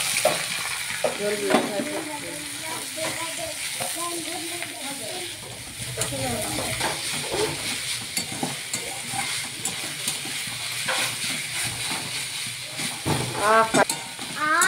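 Sushni greens frying and being stirred in a pan, with a steady close sizzle and repeated scraping stir strokes, while a person talks intermittently over the cooking.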